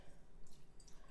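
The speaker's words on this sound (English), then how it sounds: "I like to pour down the center of the paper filter." Fresh goat milk poured down the center of a paper filter, a close, steady liquid trickle and patter running the whole time in a quiet setting.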